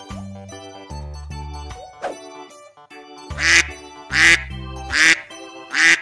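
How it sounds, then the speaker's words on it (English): A duck gives four loud, raspy quacks spaced about a second apart, each one bright and close, layered over a cheerful musical backing. "Duck."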